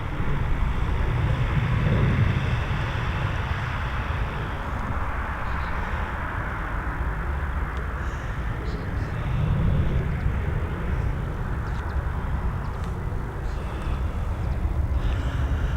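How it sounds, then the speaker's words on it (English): A Ryanair Boeing 737 departs Dublin Airport for Manchester, its engines a steady broadband roar that holds near and loud for about sixteen seconds with gentle swells, alone without talk. "we're heading over to Manchester with this Boeing 737 operated by Ryanair"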